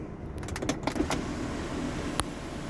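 A car sunroof motor runs with a steady low electric whir inside the cabin, and a few soft clicks and mechanical knocks come near the start and once more toward the end.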